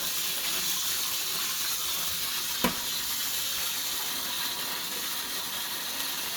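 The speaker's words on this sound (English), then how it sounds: "what I tend to do is just do little figure eights like this, so it stirs the gravel as it's washing it" Aquarium gravel is stirred in figure eights inside a bucket of running water, making a continuous close rushing, swishing wash with one brief knock partway through and no voices.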